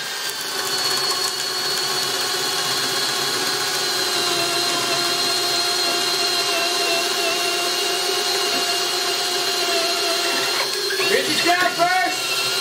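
Two hammer drills, one RIDGID and one Makita, run side by side on speed 1 with 3/4 bits, giving a loud, steady whine that holds the whole time and turns rougher near the end.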